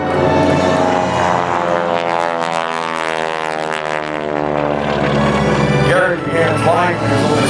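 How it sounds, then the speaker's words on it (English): Propeller aircraft powered by a 450-horsepower 9-cylinder Pratt & Whitney Wasp Jr. radial engine flying aerobatics at an air show, a loud steady droning roar with a shifting pitch as it passes, and a voice talking over it. "has been replaced with a 9-cylinder Pratt & Whitney Wasp Jr. that puts out 450 horsepower"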